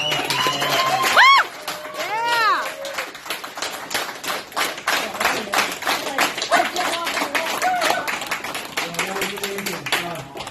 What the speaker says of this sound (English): huge round of applause for Josh